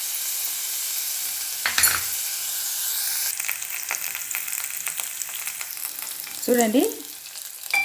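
Bottle gourd frying in oil in a pan, a continuous sizzle broken by sharp scrapes of stirring, with a brief spoken word near the start.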